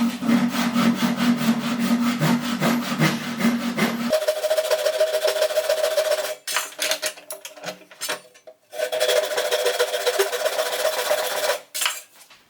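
A hand saw cuts through wood with its blade wiped with oil, giving steady rhythmic rasping strokes close up, then pausing briefly before the sawing resumes.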